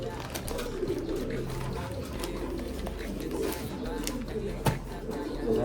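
A red check racing pigeon coos softly in a loft, low repeated murmuring calls under nearby talking and faint background noise, with one sharp click partway through.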